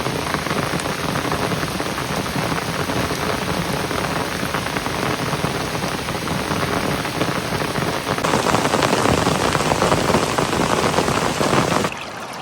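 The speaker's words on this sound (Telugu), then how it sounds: "చాలా పెద్దగా పడుతుంది వర్షం" Heavy rain pours steadily outdoors in the Araku hills, a dense loud hiss of drops on surfaces and pooling water that swells even louder near the end, with no voices.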